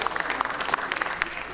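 Applause at a literary award ceremony, a steady patter of many hands clapping close by through the whole short stretch, with a voice mixed in over it.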